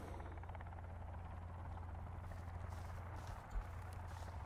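A helicopter flies over in the video game Sons Of The Forest, a steady low rotor thrum at moderate distance with a faint buzzing chop and no voices.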